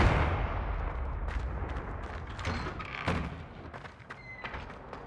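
A Confringo blasting spell from Hogwarts Legacy erupts in a heavy explosive blast that fades into rumbling debris, followed by scattered smaller cracks and impacts.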